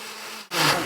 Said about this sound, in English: I'm going to put the lid on, and I'm going to liquefy this and get it super well mixed